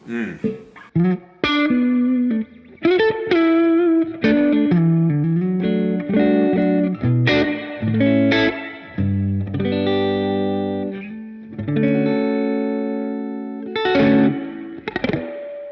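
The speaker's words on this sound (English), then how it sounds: "I like that spring reverb." Electric guitar chords and single notes through a spring reverb pedal ring out one after another, each trailing into a splashy, drippy spring reverb tail.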